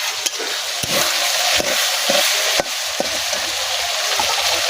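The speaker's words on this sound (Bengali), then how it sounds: "আলুটা কষানো শেষ" Potatoes sauté in an oily pan under a continuous close sizzle, with sharp clacks of a spatula scraping and stirring at irregular intervals.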